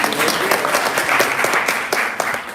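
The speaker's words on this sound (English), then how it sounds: "Let's give a round of applause for this wonderful." Applause from an audience at a Chappan Bhog festival gathering, a steady dense clatter of many hands running loud and continuous throughout, with a few voices faintly mixed in.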